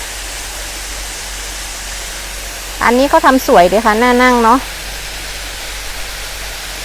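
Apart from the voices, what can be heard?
waterfall near a cafe at Doi Saket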